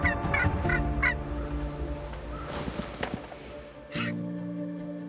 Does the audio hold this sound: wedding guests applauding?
no